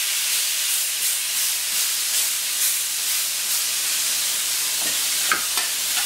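A beef rib steak (basse-côte) with a spice crust sizzles and hisses steadily on a hot grill, with a few soft clicks and scrapes as it is turned over.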